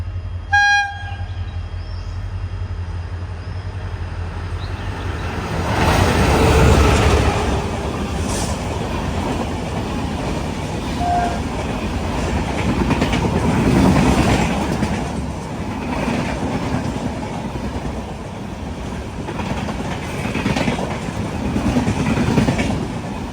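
A Duronto Express running four hours late from Mumbai Lokmanya Tilak Terminus to Ernakulam Junction, hauled by a WP4 locomotive, passes through Sawantwadi Road station on the Konkan Railway. A horn blast is followed by a loud, steady rumble and clatter of the coaches rolling by.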